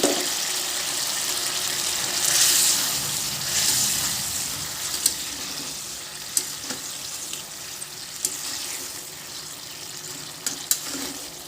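Hilsa fish pieces frying and being stirred in a pan with a little water, a steady sizzle with scattered clinks and scraping clicks from stirring, close and fairly loud, no voices.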